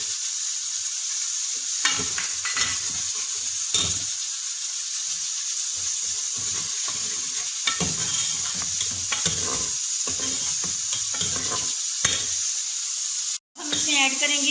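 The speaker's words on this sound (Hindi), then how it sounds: "अब मैं घी में ऐड करूँगी प्याज" Onions hiss steadily as they fry in ghee, a constant bright sizzle with stirring scrapes throughout. A voice talks intermittently over the cooking, and there is a brief dropout near the end.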